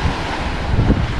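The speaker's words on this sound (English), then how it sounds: "very close to the water, to the ocean. This is South China Sea." Ocean waves and wind on a South China Sea beach make a short, fairly loud, blustery rush, with wind buffeting the microphone over a soft surf wash.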